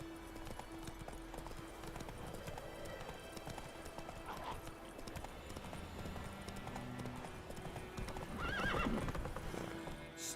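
Roach the horse galloping in The Witcher 3: Wild Hunt, faint rhythmic hooves under game ambience and music, with a whinny rising near the end.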